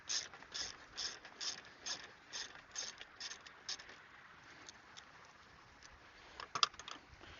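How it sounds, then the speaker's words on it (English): A ratchet turning a number 2 Phillips head bit while fitting LED dash lights in a square-body Chevrolet C10 gives quiet, rhythmic clicking in a steady series of strokes. The pace slows toward the end, with a few sharper clicks near the close. "that goes on our ratchet, and a Phillips head bit. It is a number 2."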